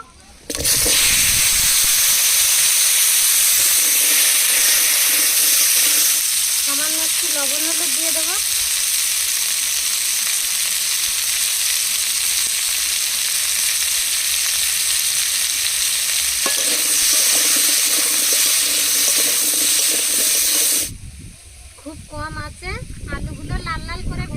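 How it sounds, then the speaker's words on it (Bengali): Raw banana and potato fry together in oil left from frying fish, a loud, continuous close sizzle with stirring scrapes for about twenty seconds, then quieter crackling as a voice speaks. "এবার মাছ ভাজা তেলের মধ্যে কলা আলু একসাথে ভেজে নেব।"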